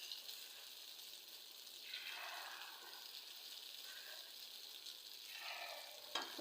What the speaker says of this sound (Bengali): চপ ভাজা হচ্ছে